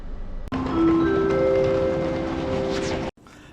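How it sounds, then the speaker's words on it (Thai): A train's steady rumble with a tonal horn-like whine rising over it, close and continuous, then cutting off abruptly, as the train arrives at Lao Cai station in Vietnam. "และรถไฟนะครับก็มาถึงสถานีลาวไกนะครับ"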